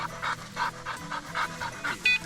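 A dog pants in steady, rhythmic bursts close by, quick breaths repeating throughout at a fairly quiet level, at an off-grid camp in the north woods.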